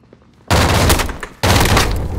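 Loud close gunfire in Call of Duty: Modern Warfare Warzone, two heavy bursts of shots separated by a brief gap, with dense crackling impacts and no talk.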